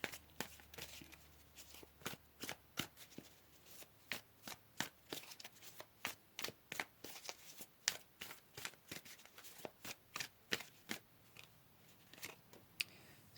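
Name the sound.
shuffling tarot cards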